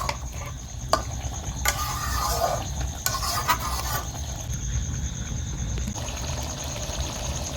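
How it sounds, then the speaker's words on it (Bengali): Duck meat curry is stirred with water in a hot pan, a steady close sizzle and bubbling broken by a few spoon knocks and scrapes against the metal. "সুন্দরভাবে জল দিয়ে নেড়ে গায়ে এই ঝোলটা মারতে হবে"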